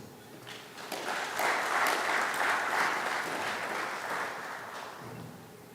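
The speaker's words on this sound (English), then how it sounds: "Another round of applause for Professor Julius Ogengo." Audience applause at the Taifa satellite launch ceremony in April 2023 swells into a dense, steady clapping for about four seconds, then tapers off.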